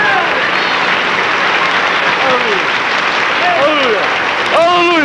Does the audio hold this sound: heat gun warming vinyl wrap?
no